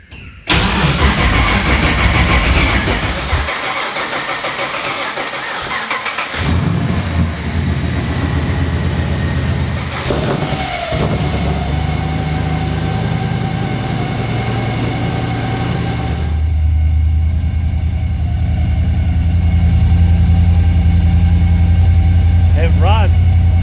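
A car engine cranks and catches for its first start after the fuel rail is refilled, then settles into a loud, steady idle that shifts in pitch partway through and keeps running to the end.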